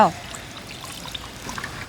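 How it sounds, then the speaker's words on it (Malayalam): Water is poured into a pan of Kerala-style fish curry as a soft, steady trickle for a couple of seconds, just after a brief voice at the start. "ഈ ഒരു സമയത്ത് നമുക്ക് കുറച്ച് വെള്ളം ഒഴിക്കും"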